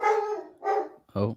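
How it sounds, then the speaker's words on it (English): A pet dog barks nearby during a live football watch-along, with a few short barks heard close by alongside a brief spoken exclamation. "Is that your dog"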